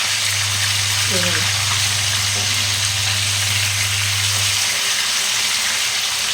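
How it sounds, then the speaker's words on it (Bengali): Rui fish pieces fry in a pan, a steady broadband sizzle of hot oil running loud and unbroken throughout, with a low hum underneath that fades near the end. "দু পিঠেই দেখুন লাল লাল করে ভেজে নিলাম"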